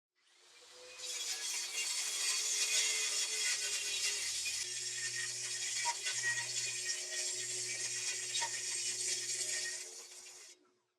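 A WEN track saw cuts along its guide track, a loud continuous high whine that starts abruptly, holds steady for about nine seconds with faint low rumble underneath, then stops.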